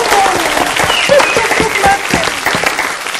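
A studio audience claps in a dense, lively burst of applause that holds steady, with a few sharp claps standing out near the listener.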